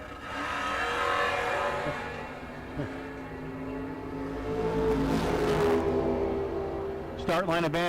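A 1968 Camaro and a 1975 Dodge Dart Swinger launch side by side in a drag race, engines roaring loudly and rising in pitch, with a harsh rev burst near the end and an announcer talking throughout.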